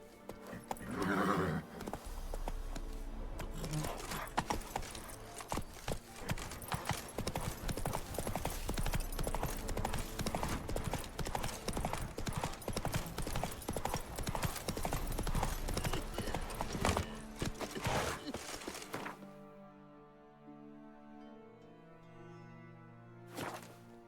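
Hooves of a horse galloping in The Witcher 3 game, rapid continuous clip-clopping close up with a whinny near the start, then fading out into quieter game ambience near the end.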